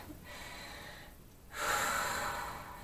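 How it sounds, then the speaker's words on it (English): A woman draws one deep, audible breath close to the mic, a soft airy rush that swells after a quiet pause and then gently fades. "Take a deep breath"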